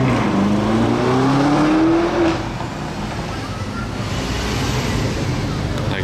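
A Lamborghini Urus engine revs briefly with a rising whine over the first two seconds, then fades into a steady outdoor roar of road and traffic noise.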